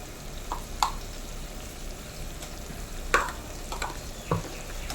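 Ginger-garlic paste frying in a pan with softened onions and tomatoes for a Kerala fenugreek fish curry, a soft steady sizzle punctuated by a few sharp spoon knocks against the pan as it is stirred.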